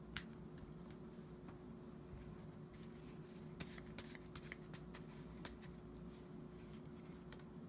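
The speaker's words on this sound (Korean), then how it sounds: "한 장을 제가 더 뽑아볼게요." A tarot card is drawn from the deck, making soft, close papery flicks and slides in scattered bursts over a steady low room hum.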